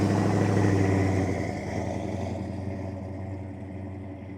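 A 1969 Dodge Super Bee Mopar muscle car rumbles loudly nearby with a deep, lumpy V8 burble that fades gradually as it moves away at a car show.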